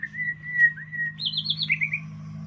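A captive white-rumped shama calls nearby with clear whistled notes rising into quick warbling phrases, over a steady low hum.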